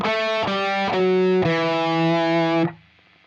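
Distorted electric guitar plays a bar of a solo: a few picked notes, then a long sustained note that cuts off abruptly, loud and saturated with no voices.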